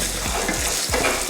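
Dal, shallots, garlic and dried red chillies frying in oil for a coconut-free chutney, a steady close sizzle with a few soft stirring scrapes running through it.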